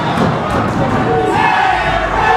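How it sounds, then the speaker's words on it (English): At a live independent wrestling event, a loud crowd cheers and roars without a break, the excited shouting voices filling the space up close. "The crowd is fully behind San Andreas."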